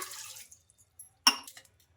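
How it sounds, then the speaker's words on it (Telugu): A glass of water is poured into a kadai on a stove, with two short splashing pours separated by a brief pause and a few faint drips. "అందులోకి ఒక గ్లాసు వాటర్ అయితే వేస్తున్నా"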